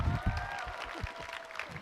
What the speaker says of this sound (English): please give another warm round of applause to my partner all day,